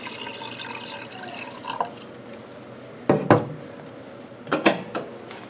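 Distilled water is poured into an autoclave reservoir, giving a soft continuous trickle broken by a few louder splashing gulps and sloshes, close and without voices.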